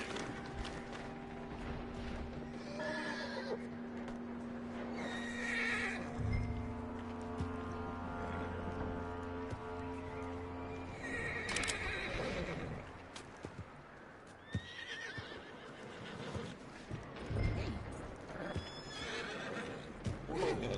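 A horse in the video game Red Dead Redemption 2 whinnies loudly and repeatedly, with clip-clopping hooves, creaking tack and some speech over the scene.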